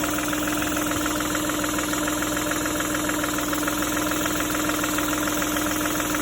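A 2011 VW Polo 1.2 TDI diesel engine runs steadily after a timing belt replacement, a loud, even, close clatter with a constant hum and no voices over it.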